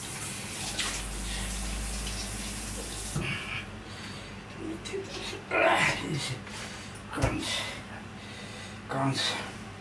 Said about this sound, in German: hier heißes Wasser.